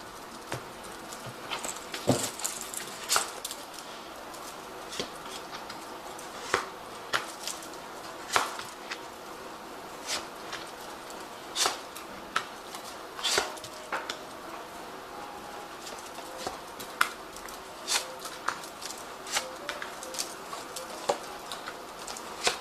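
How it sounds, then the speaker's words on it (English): A Zombie Tarot card deck is shuffled in soft irregular patters and light flicks, with quiet crisp snaps scattered through a low hiss and no voices. "I'm using the Zombie Tarot, and I have shuffled this deck."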